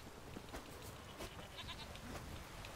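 Goats bleat in The Witcher 3 video game, a few short nasal calls heard faintly over steady game ambience and background noise.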